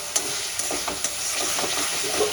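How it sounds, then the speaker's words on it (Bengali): Ginger, garlic and green chili paste fries with onions in a pan for an egg and potato bati chorchori, giving a steady close sizzle broken by a few soft stirring scrapes. "এটা দিয়েও আমি ভালো করে কষিয়ে নেব।"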